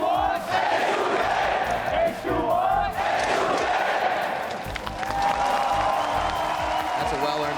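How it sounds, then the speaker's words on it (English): A large crowd at a League of Legends EU LCS esports arena match, H2K against UOL, roars and cheers loudly and continuously with whoops and clapping, while a caster talks over the noise. "they've been very loud today cheering for H2K from the start"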